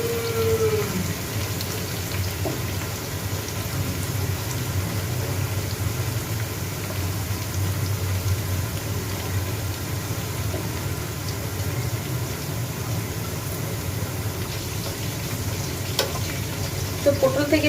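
Pieces of pointed gourd (potol) frying in a pan, a steady close sizzle that holds evenly through the whole stretch, with faint stirring noises and occasional light clinks.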